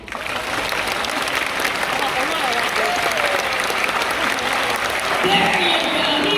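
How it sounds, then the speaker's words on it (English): A crowd at the Splash Safari animal show at Singapore Zoo applauds steadily throughout, dense clapping with some voices mixed in, swelling slightly near the end. "He enjoys his round of applause."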